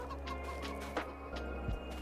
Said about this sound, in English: Let's see how the chickens are doing